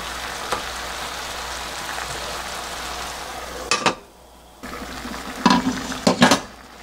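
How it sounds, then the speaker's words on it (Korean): Braised half-dried rockfish simmers in a pan with a soft continuous bubbling sizzle, broken by brief clatters and sharp splashy bursts as more broth is poured in, then a short hush before the simmering resumes. "여기서요 국물이 부족하면 좀 더 넣겠습니다"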